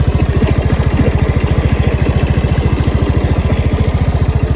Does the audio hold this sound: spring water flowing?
no